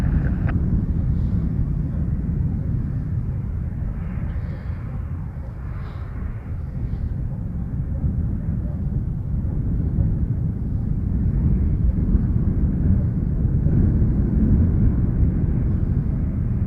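A Porter airliner takes off from Montréal-Trudeau airport, a broad, steady roar of jet engines heard from a distance with wind buffeting the microphone, swelling slightly toward the end.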